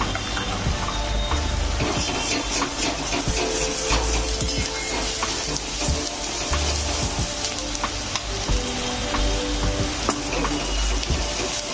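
Chopped onion frying in a pan with a steady crackling sizzle while ground masala paste goes in for a village-style chicken curry, accompanied by scraping and stirring clatter that stays close and continuous.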